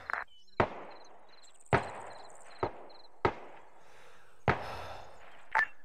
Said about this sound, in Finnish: kakkosta päin ammutaan tällä hetkellä